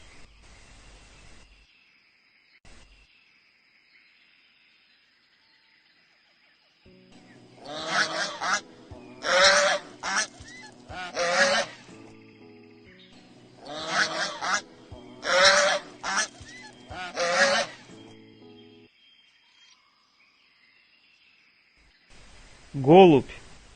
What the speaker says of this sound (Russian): Лебедь.